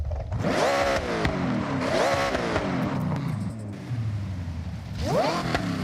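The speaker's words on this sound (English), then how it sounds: "But we supercharged the shit out of this engine. You can hear the supercharger on it." A supercharged V8 car engine in Forza Horizon, loud and close, revving repeatedly in rising and falling sweeps with the supercharger whine audible, a brief lull, then one more sharp climb near the end.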